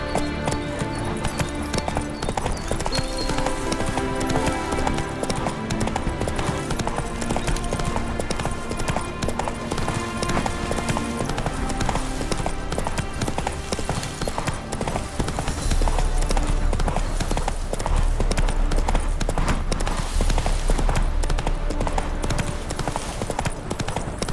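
Geralt's horse Roach galloping in The Witcher 3: Hearts of Stone, a steady, fast clip-clop of hooves running continuously and close, with a brief whinny and game music layered under the hoofbeats.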